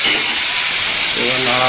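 Vegetables hit a hot pan with cumin powder and burst into a loud, close hiss of sizzling. The sound lasts under two seconds, with a hint of a voice at the end.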